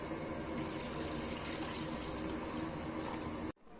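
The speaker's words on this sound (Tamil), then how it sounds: "இப்போ புளி தண்ணி ஊற்றிக்கலாம்." Tamarind water pours steadily into a pot with a continuous splashing gurgle, then stops abruptly near the end.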